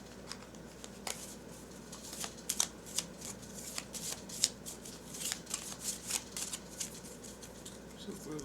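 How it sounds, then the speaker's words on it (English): A deck of Marvel Champions cards is shuffled by hand in repeated quick riffles and snaps, close and fairly soft, with a voice speaking faintly in the background. "Give it a good shuffle."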